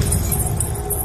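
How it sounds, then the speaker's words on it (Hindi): Anklet bells jingle in a few quick, bright shimmering bursts over a low rumbling background near a river. "पायल की आवाज सुनकर विराट"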